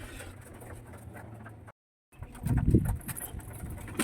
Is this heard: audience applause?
no